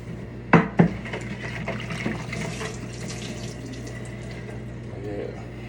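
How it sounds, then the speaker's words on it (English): A knife clatters twice into a sink of hot water, followed by gentle sloshing and running water. "Throw my knife in my hot water."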